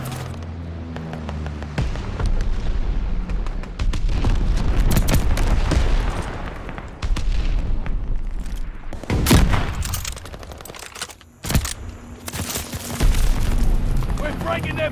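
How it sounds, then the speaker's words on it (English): Bombing run explosions in Call of Duty: Vanguard, a dense barrage of loud booming blasts and gunfire rolling in heavy waves with sharp individual hits, under game voice lines and player talk. "Friendly bombing run inbound."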